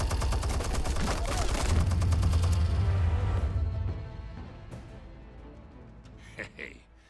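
Dense automatic gunfire with heavy low rumble in Batman: The Telltale Series, loud and sustained for several seconds before fading into quieter game ambience with a few late thuds.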